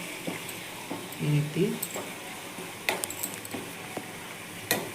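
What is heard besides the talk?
hot oil bubbling while frying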